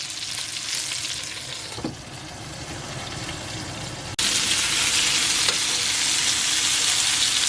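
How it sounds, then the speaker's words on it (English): Eggplants frying and roasting in oil in a pan for a spicy curry, a steady close sizzle and crackle that jumps louder partway through and holds on, with no talking. "I've turned all the eggplants and I'm going to wait for the other side to get roasted."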